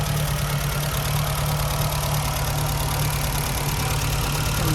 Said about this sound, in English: Engine idling away nicely.